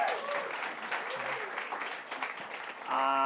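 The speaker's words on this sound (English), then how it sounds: "let's give another round of applause to Chip" An audience at an evening event applauds guest Chip Conley, a moderate wash of clapping from a seated crowd with voices faintly mixed in, ending in a brief tonal sound.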